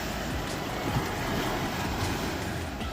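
Surf breaks and washes against the rocky shore at Atuh Beach on Nusa Penida, a broad continuous roar heard close, mixed with gusting wind buffeting the microphone.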